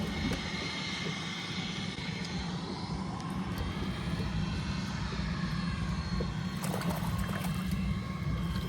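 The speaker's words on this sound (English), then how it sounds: "another jet about to take off" A jet airplane starts its takeoff near a New Orleans waterfront. Its broad, steady engine roar runs alone the whole time and swells slightly toward the end.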